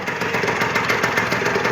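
A freshly tuned Lambretta scooter idles close by, its small two-stroke engine putting out a steady, slightly lumpy putter with quick regular pulses, no voices present.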